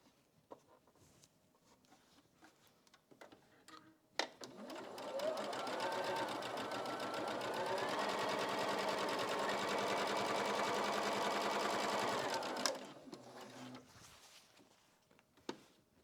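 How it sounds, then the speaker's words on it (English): A sewing machine stitches quilt pieces together for an Icebox Cookie quilt, running in one close, steady burst of about eight seconds between a few quiet handling clicks. "Now I'm sewing them all together"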